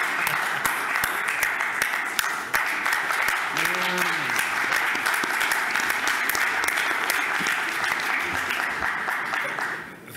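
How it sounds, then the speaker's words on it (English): A large conference audience at a Greek investment forum claps in a long, loud, continuous ovation, fading slightly near the end, with a brief voice murmuring under it midway. "If not a standing ovation"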